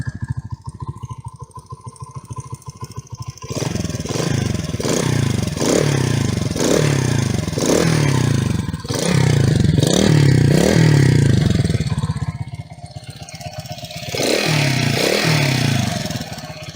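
Delta moped engine idling and being blipped, with light valve ticking, several sharp throttle bursts in a rhythmic series, then a pause and two more revs, close and loud with no voices.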